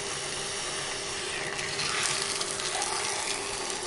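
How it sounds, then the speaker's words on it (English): Canned mushroom soup sizzles and fries in a pan, a steady broadband hiss with a brief louder surge midway, close and continuous with no talk. "You hear that frying sound?"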